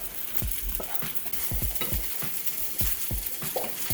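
Vegetables and bacon fry with egg in a pan, a constant sizzle broken by repeated scraping strokes of a utensil stirring at a brisk, uneven rhythm, close and unaccompanied by speech.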